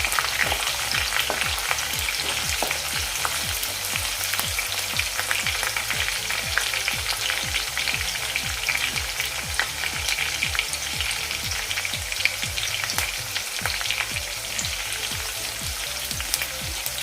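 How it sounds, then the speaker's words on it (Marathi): Garlic and curry leaves fry in hot oil, a dense, even sizzle with fine popping crackles held steady from start to end, close and alone without speech. "लसूण घालूया कढीपत्तासुद्धा घालूया"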